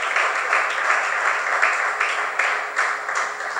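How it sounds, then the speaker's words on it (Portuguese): Church congregation applauding during a sermon, steady rhythmic clapping in waves, moderately loud and continuous, with no talk over it. "Aplauda, querido, pode aplaudir que isso é profético sobre as nossas vidas."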